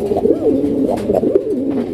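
A pair of red Raj Golla pigeons coo close up, a loud rolling, throaty warble that repeats in quick waves for two seconds without any voices.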